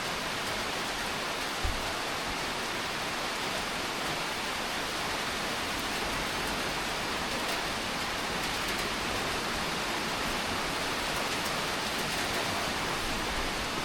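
Steady rain falls around a cabin porch in Williamson, West Virginia, a dense, even hiss that holds unbroken throughout, with no voices.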